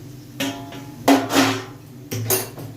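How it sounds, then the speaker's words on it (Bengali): A metal lid comes off a pot of boiling green mangoes with a few sharp clanks and clinks, loud and close, spaced out over a couple of seconds. "এবার ঢাকনাটা খুলে দেখে দেবো আমগুলো সেদ্ধ হয়েছে নাকি"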